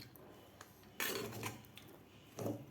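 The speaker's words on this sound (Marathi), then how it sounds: "परत एकदा आपल्याला मिक्स करून घ्यायचं आहे" Kanda poha being stirred in a pan, with a spoon scraping and clinking against the metal in two or three short bursts over a quiet background.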